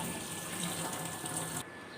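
Tap water gushing steadily from a kitchen faucet to rinse boiled pasta, a close, even hiss that cuts off abruptly near the end.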